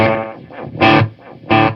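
An electric guitar chord through a Belle Epoch Deluxe echo pedal rings out, followed by rhythmic delayed echoes repeating the strum in pulses, loud and close.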